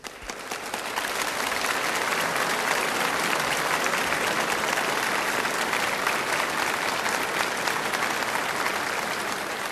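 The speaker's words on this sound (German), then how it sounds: "ich danke für den Applaus" Sustained audience applause from a theatre crowd in a 1970 German crime show, loud, dense and steady for the full length after a brief build-up, with no voices over it.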